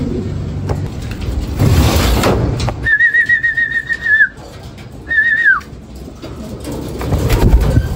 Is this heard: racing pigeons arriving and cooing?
yes